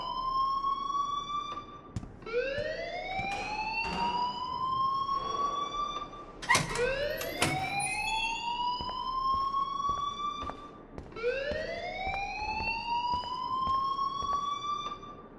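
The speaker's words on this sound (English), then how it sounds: "please turn off that alarm since that's your job" A wailing alarm in the video game Life is Strange, rising sweeps repeating about every four seconds, loud and continuous, with a brief sharp clatter near the middle and no talking.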